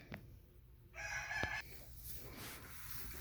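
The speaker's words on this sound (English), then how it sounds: "We have a laying hen." A chicken in a farm coop lets out a single short crow-like call, faint and somewhat distant against quiet background noise.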